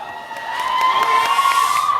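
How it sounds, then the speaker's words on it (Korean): Cheering and applause rise from a crowd at the red-carpet VIP premiere of the Korean film 'Heungbu'. The steady, bright crowd noise swells slightly over two seconds, with a whistle-like tone running through it. "일곱 분의 배우분들에게 큰 박수를 부탁드리겠습니다"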